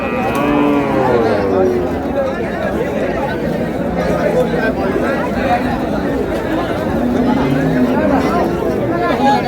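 Cattle, including dairy cows sold for meat, moo repeatedly and loudly at the Ambari livestock market, their drawn-out calls overlapping amid constant crowd chatter and voices close by.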